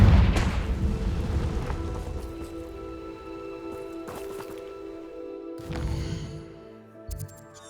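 A Confringo fire-blast spell going off in Hogwarts Legacy, a deep boom at the start that rumbles and fades, then lighter impact thuds and clatter, with no talking.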